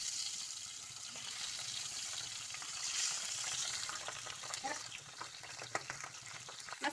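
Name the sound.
pabda fish frying in hot mustard oil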